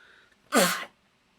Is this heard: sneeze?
yes